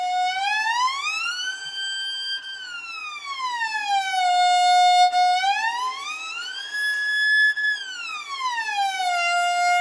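A violin slides its pitch smoothly up and down in long sweeping glissandos, rising and falling repeatedly like a wailing siren, played alone.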